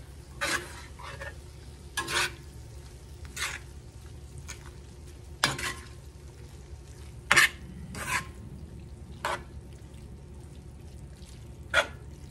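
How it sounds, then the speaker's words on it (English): Spoon scrapes through burrito filling in a pan on a switched-off stove, several separate stirring strokes spaced irregularly against a faint low hum. "Give it one more stir."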